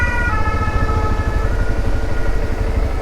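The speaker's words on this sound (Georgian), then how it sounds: "რაღაც ხდება, სასწრაფომ გაიარა." An ambulance siren passes along a narrow, congested street in Avignon, its steady wailing tones loud and continuous over a low engine rumble.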